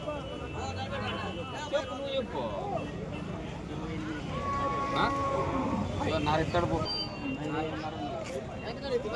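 A small cow moos at a crowded cattle market in Anantapur, its low drawn-out calls rising from a steady hubbub of bargaining voices and nearby talk.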